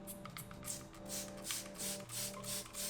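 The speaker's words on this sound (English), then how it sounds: "spray the entire rim with the tires with this. So we're just gonna go ahead, start spraying it down." Wheel cleaner sprayed in repeated bursts onto powder-coated rims and tires, a close hissing spray pulsing in short rhythmic pumps with faint mechanical hum underneath.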